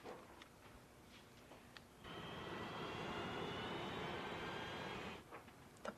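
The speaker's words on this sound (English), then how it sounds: "The plane." An airplane engine roars steadily for a few seconds, a broad close drone that swells in abruptly and then cuts off, with faint clicks and handling noises before and after.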